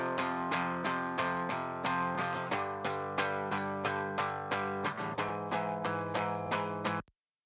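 A clean electric guitar, recorded with SM57 microphones and no plugins, picks steady repeated chords with a bright, ringing attack on each strum before stopping abruptly near the end.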